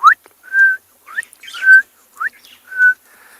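A greater honeyguide calls outdoors at sunset with clear, repeated whistled notes, rising chirps alternating with sustained level whistles, fairly close and loud against a quiet background.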